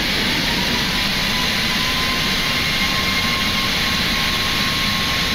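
Boeing 737 MAX jet engines hold takeoff thrust as a loud, steady roar heard from inside the cabin, with a faint whine running through it and no speech.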